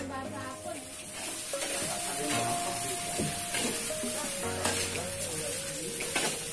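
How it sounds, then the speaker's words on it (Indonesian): Eggplant frying in oil gives a steady crackling sizzle, moderately faint, with a held tone and occasional clinks of a pan in the background. "Itu goreng terong ya?"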